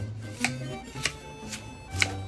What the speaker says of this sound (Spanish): Vamos a picar cebollita perla, ¿ya? Miren. Lo vamos a hacer en cuadritos